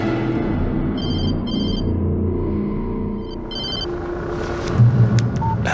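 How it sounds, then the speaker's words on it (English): A telephone ringing in the video game Alan Wake, two short bursts of electronic trilling rings and then another pair, close and clear over a low rumbling game ambience. "She was startled by the phone."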